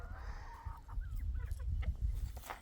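Chickens, including laying hens, cluck and chirp while feeding in a coop, with soft pecking and rustling close by and a low rumble underneath.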